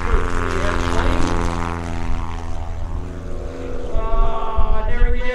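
A propeller-driven comedy airshow airplane flies low near the runway, its engine roaring loudly with a rising and falling drone and strong harmonic buzz as it passes close by, with crowd noise and chatter underneath.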